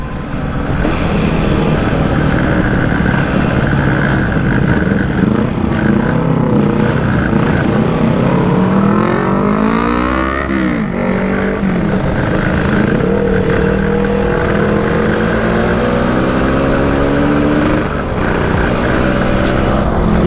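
A loud motorcycle engine roars continuously while riding at night, its pitch rising and falling as the throttle opens and eases.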